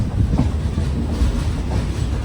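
A train from Mumbai waits for a signal on a line near the Kadapa and Nellore routes, giving off a loud, continuous low rumble with a steady rolling texture and no voices.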